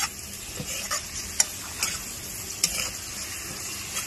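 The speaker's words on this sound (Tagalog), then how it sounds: "Haluin lang po." Crushed tomatoes are stirred in a cooking pot for sinigang with salmon head, a soft steady sizzle under a few sharp utensil scrapes and knocks spread across the stretch, close by, with no talking.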